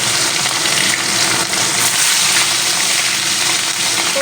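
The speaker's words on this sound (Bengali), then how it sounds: "আমি আগে থেকে তেল বসিয়ে দিয়েছিলাম সর্ষের তেল দিয়েছি তো মাছগুলো ভেজে নেবো" Catla fish frying in hot mustard oil for doi katla, a steady broadband sizzle with a watery, bubbling texture holding at constant loudness throughout, close and alone with no voices.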